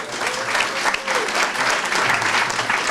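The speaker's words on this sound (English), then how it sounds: "So round of applause, please" A room full of people applauds at a high school summer career academy in AI as a speaker is invited up, the clapping steady and dense for the whole stretch, with faint voices mixed underneath.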